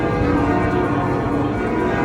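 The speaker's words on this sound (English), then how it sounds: "But the bells were ringing at Notre Dame." Church bells of Notre Dame in Paris peal continuously, a dense, loud, reverberant wash of overlapping strikes with no pause.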